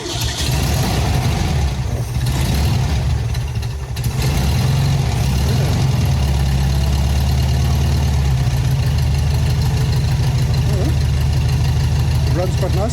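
The rebuilt 1600 engine in a 1971 VW Bus Deluxe Kombi runs steadily and loudly close by, holding a rough, even idle with a slight rise in revs partway through.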